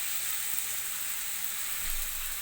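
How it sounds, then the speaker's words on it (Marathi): A thalipeeth flatbread made from rice fries in oil on a pan, giving a soft, steady, even sizzle with no talking. "कढईने पण थोडंसं तेल सोडून ह्याला पण आपण आता छान दोन्ही साईडनी तांबूस रंगावर भाजून घेऊया"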